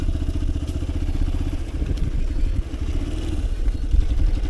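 A motorcycle engine putters in a rapid, steady pulse nearby at a flooded crossing of the Subarnarekha river, loud and continuous with slight changes in revs and a few clunks.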